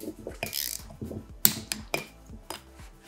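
Ratcheting clicks and metallic taps from a calibrated torque wrench tightening a fischer FH II high performance anchor fixing to 22.5 Nm, a handful of sharp, irregular clicks close by with no talk.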